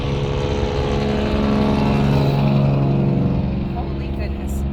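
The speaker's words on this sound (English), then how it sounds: "Oh, I'm about to pass a loud truck." A loud truck roars past close by, heard from inside a moving vehicle, its heavy engine drone swelling and filling the whole clip with a steady rumble.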